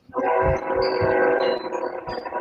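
A train rumbles past nearby, loud and steady, with a faint tonal whine riding over the heavy low roar.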